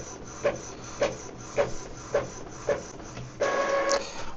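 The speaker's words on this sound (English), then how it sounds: "just click on print and the printer will do its job" An Epson EcoTank L3270 inkjet printer printing a page: a run of evenly spaced mechanical clicks and rubbing strokes as the paper feeds, then a longer whirring pass of the print head at the end.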